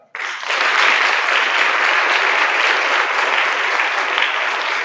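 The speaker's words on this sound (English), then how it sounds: "Let's give Carlos a hand clap." An audience at a Martin Luther King Jr. celebration bursts into loud applause for an award honoree, starting abruptly and holding as a dense, even wash of clapping with no voices on top.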